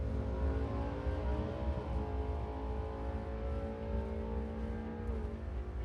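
An '81 Chevy Malibu and a Camaro drag race side by side at a drag strip, heard as a loud, sustained engine roar whose rising and falling revs track through the run.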